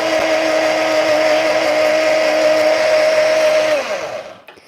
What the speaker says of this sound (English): So I'm going to blend these really quick here.